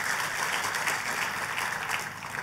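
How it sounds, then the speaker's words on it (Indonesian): Sustained applause fills a church service as the congregation claps for God, a dense, even wash of hand claps held steady throughout with no voices standing out. "Boleh katakan amin dan tepuk tangan yang paling meriah buat Tuhan kita"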